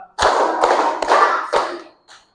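A class claps in a rhythmic classroom clapping routine, four sharp, loud group claps spaced about half a second apart, with no talking.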